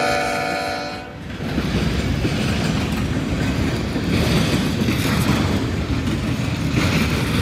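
A CSX M369 freight train passes with one GE locomotive leading and another as a mid-train DPU. A horn sounds briefly at the start, then a loud, steady rumble and rattle of the rolling cars follows, close and continuous.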